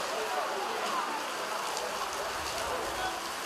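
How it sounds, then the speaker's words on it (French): Heavy rain with big drops falling during a football match in northern Mauritius, a dense, even hiss of rainfall with scattered sharper drop impacts, heard steadily at moderate level without pause. "Là, il commence à pleuvoir des cordes quand même dans le nord du pays."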